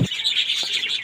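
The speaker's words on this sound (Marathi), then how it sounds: "हे पण लवबर्डच आहेत." Lovebirds kept at a farmhouse give a short burst of bright chirping, close and fairly loud, with a steady high trill and a brief extra note partway through, no voices present.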